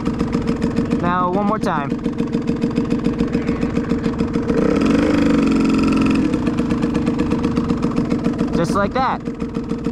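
A motorcycle engine idles steadily with a rapid, even pulse during a riding lesson and swells briefly with light throttle mid-clip, while an instructor talks over it.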